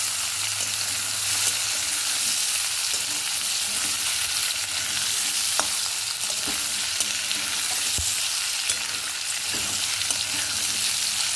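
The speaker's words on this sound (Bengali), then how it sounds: "চলুন দেখি আলুটা কতটা ভাজা হলো" Potatoes frying in a pan, a continuous loud close sizzle with a few soft knocks and stirring sounds, steady throughout and without talking.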